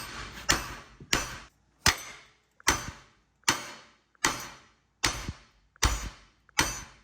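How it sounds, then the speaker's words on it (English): A mallet strikes the side of a tie rod on a Honda Civic Mugen Si again and again in a steady rhythm, about eight sharp ringing hits, each fading before the next. "Have to break it loose with the mallet on the side."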